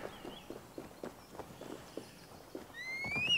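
Horse hooves clip-clop in a steady walking rhythm inside the Assassin's Creed Valhalla video game, ending with a rising whinny and neigh, moderately loud with no talk.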